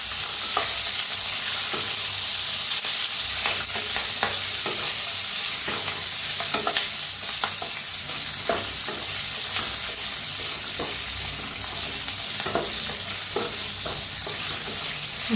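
Curry leaves frying in a pan for a salted green chilli side dish, giving a continuous bright sizzle with repeated scrapes and taps as they are stirred, close and steady with no talking.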